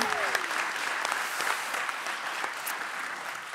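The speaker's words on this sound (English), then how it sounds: "So one more applause for Priyanka." Lively audience applause at a design talk event, a dense, steady burst of clapping from a crowd that fades slightly toward the end.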